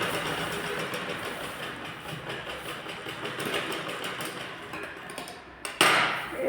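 A sewing machine stitches a bird-design blouse with a steady mechanical whir and rapid ticking, fairly loud and continuous, dipping briefly before a sharp clack and resuming.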